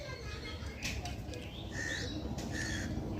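Madras pigeons in a loft, with faint bird calls and brief squawks over a steady noisy background, while people talk nearby.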